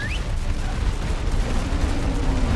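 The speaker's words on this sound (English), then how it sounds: "Fire the cannon!" A cannon fires in Ark Survival Ascended during a boss fight, giving a loud, dense, continuous blast-and-rumble that fills the whole short stretch with no clear separate shots.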